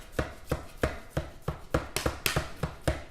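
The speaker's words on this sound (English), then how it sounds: "we're just going to cube that up kind of small, make it into relish" A knife dices a sour pickle into small cubes for relish, about a dozen crisp, evenly spaced chops on a cutting board, close and clear with no talking.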